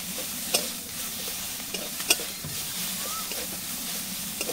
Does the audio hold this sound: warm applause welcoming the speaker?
no